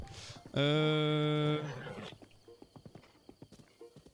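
A horse in Zelda: Breath of the Wild gives a loud, clear whinny lasting about a second, followed by a steady rhythmic clatter of hooves at moderate volume.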